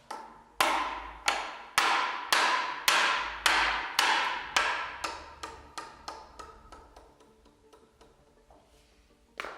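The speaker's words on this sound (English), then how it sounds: "With an help of an hammer and some brutal force," Sharp metallic hammer blows drive a front axle into place on a Lamborghini Lamborghinetta model, in a steady rhythm, about sixteen hits that gradually soften, with one more strike after a pause.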